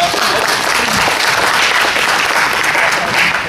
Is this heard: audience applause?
yes